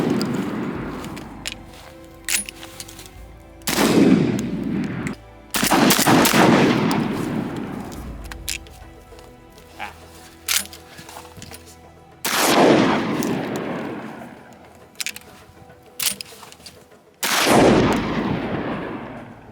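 Benelli M4 semi-automatic shotgun with its gas-operated system firing outdoors, several loud booming shots spaced a few seconds apart, each ringing out with a long echoing tail.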